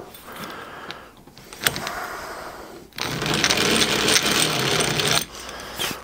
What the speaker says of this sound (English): Here's how much I use this little hand drill.